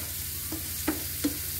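Chopped nutmeg, together with chilli powder, turmeric and salt, goes into hot oil for a nutmeg pickle, with a soft, low sizzle and three brief taps of a spoon.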